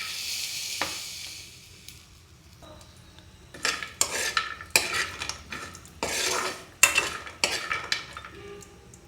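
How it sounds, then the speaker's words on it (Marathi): Dry fruits shallow frying in ghee in a pan, a soft sizzle under repeated metal spoon scrapes and clinks against the pan, coming in irregular bursts close by. "आपले ड्रायफ्रूट्स पण तुपामध्ये छान असे फ्राय झालेले आहेत"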